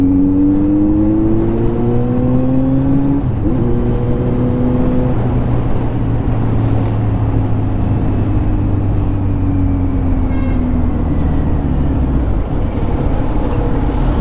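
A Kawasaki Z900 motorcycle revs nearby on a busy road, its exhaust note rising and falling in drawn-out sweeps, then settling into a steady, throaty drone with traffic noise around it.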